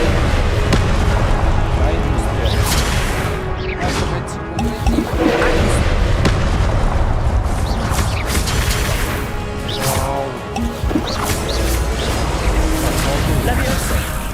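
Loud bursts of crashing, whooshing and crackling fire-spell effects in Hogwarts Legacy repeat over a dense rumbling game background, with a voice talking throughout.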